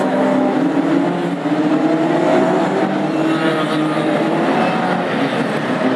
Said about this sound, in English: We have an awful lot of cars out on track.